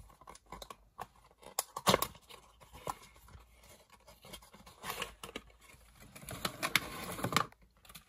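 Packaging of a Norev 3-inch Minijet model car from the 2003/2004 series being opened by hand: scattered crinkles, clicks and tearing rustles of plastic and cardboard, close and fairly quiet, with busier bursts near the end.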